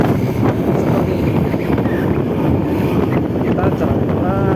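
Riding a Honda Beat New motor scooter produces heavy wind buffeting on the microphone over a low engine drone, loud and continuous throughout.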